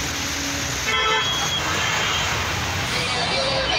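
Dense road traffic in a rain-flooded jam on a VIP road, a steady loud wash of engines with a short car horn toot near the one-second mark, continuous throughout.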